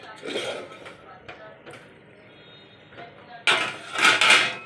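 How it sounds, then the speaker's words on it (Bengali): A lid comes off a pot of arum root curry with chickpeas and paneer. A quiet stretch with soft knocks gives way to a sudden, close metallic scrape and clatter with a rush of steam near the end. "এবারে দেখি তুলে দিই ঢাকাটা"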